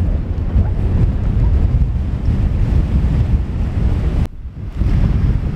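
Strong wind by the shore at an old castle on Arran pounding the microphone in a constant loud low roar, dropping out briefly near the end before resuming, no speech.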